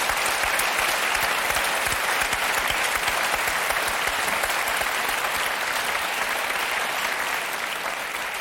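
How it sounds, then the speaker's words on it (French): A television studio audience applauds steadily and loudly for a musician's new album, a dense wash of clapping sustained throughout without pause or speech. "Je crois que vous pouvez l'applaudir."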